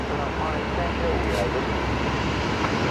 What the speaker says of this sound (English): a bit of reverse thrust action there from those Trent XWBs